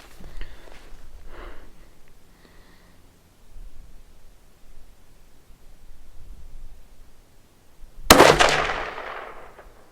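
A single sharp 6.5 PRC rifle shot cracks loud and close near the end, its blast decaying over a second or two, after quiet outdoor rustling and faint handling noise.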